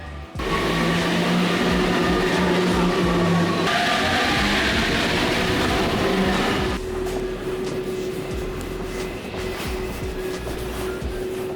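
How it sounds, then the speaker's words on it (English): An automatic Paris Metro Line 4 train runs loudly and continuously underground, with a steady rumble, motor whine and rail noise that shift in tone partway through. "Metro Line 4 is one of Paris's 3 automatic metro lines"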